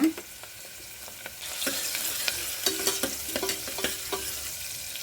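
Onion and turmeric frying in a little oil in a pan for goat leg soup, with a steady soft sizzle and a few sharp clinks of a spatula scraping and stirring, fairly close, no talking.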